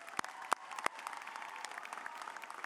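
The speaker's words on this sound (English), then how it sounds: "Graduates, you can give them a round of applause" Graduates applaud at a university spring commencement ceremony, a steady wash of many hands clapping with a few sharp nearby claps standing out, fairly distant and without talk.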